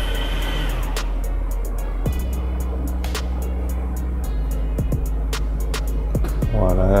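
An electric ride-on toy Mercedes GLC 63s drives forward and back, a steady low motor hum with gear whine and shifts in pitch, plus scattered clicks and knocks nearby.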